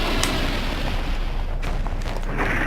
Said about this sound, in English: I guess I have to finish him with a bullet.